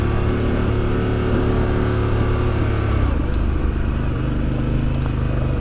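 Harley-Davidson Pan America 1250 Special motorcycle engine pulling and accelerating, a steady loud mid-range drone that shifts in tone partway through, with no talk over it.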